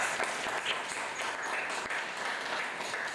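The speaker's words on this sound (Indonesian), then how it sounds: "Tepuk tangan buat kita." Classroom of students clapping their hands together, a fairly quiet, even patter of applause with a few sharper claps standing out, heard as if from a little distance.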